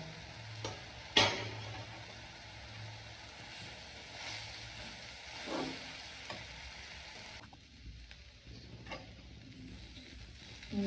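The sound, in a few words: stirring chopped chapati with egg in a pan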